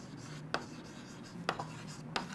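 Pen or marker strokes writing notes during a physics lesson on fluid mechanics, three short scratchy bursts spaced about a second apart over a quiet room background.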